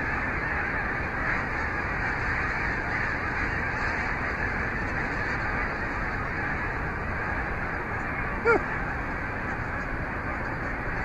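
A flock of geese honks steadily outdoors, overlapping calls forming a continuous dense chorus with one louder nearby honk standing out late on.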